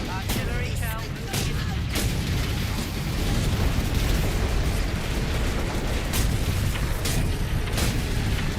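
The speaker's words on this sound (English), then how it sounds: "Incoming. Artillery shell." Artillery shell explosions go off in Warhammer 40k: Space Marine amid continuous battle noise, with several sharp impacts and booms over a dense rumbling roar and occasional voices.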